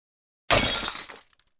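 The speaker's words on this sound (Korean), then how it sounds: "물을 마시려고 컵을 들었는데 손에서 떨어졌습니다" A glass cup slips from a hand and smashes on a floor at home: one sudden loud crash bursting into scattered shards, then a few tiny tinkles as the pieces settle.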